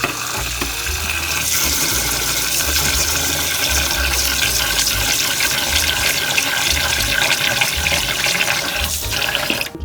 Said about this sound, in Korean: 쌀을 씻어 주시는데요.